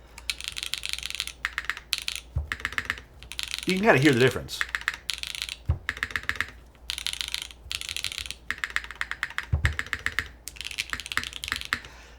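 Fingers type on a Norytek 70 mechanical keyboard, producing dense, close clacking keystrokes in bursts with brief pauses, and someone speaks briefly over the typing.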